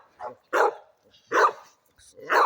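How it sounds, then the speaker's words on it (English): A young bulldog barks four times in short, loud bursts spaced about half a second apart, close by, with no one talking over it. "That's a hell of a little bulldog right there."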